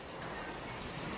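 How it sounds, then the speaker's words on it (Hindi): Heavy rain pours steadily in a fierce windstorm in Dehradun, a dense, continuous roar of drops close by with no gaps or talk. "बहुत तेज आंधी तूफान बारिश"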